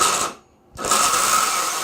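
A food processor whirs loudly as it purees about a quarter cup of very cold orange juice with pineapple for homemade popsicles. The motor is cut off briefly and then restarts into a steady grind. No one speaks.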